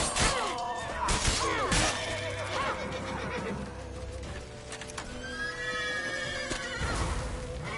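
A horse in The Witcher 3 neighs loudly amid clattering hoofbeats and crashing impacts during a chase through town, with several whinnies rising and falling over the busy game action.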